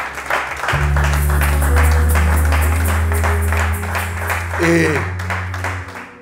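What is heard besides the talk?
congregation applauding in church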